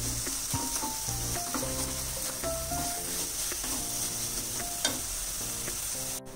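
Coconut laddu mixture scraped and stirred in a pan over a gas flame, a steady sizzle with repeated clinks and scrapes of the spoon against the metal, close and continuous with no talking.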